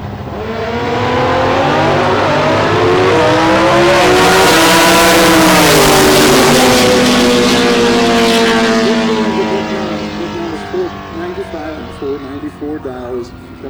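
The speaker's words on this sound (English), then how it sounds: "You hear that motor go up on the 2-step." A loud, high-revving nitro drag racing engine builds on the two-step and holds a droning roar before winding down, with crowd and announcer chatter faintly underneath.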